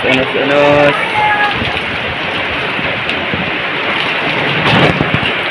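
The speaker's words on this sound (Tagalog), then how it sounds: "Lakas ang unos." A strong thunderstorm lashes a fishing boat at sea, with heavy rain roaring loud and steady throughout and a voice briefly calling out near the start.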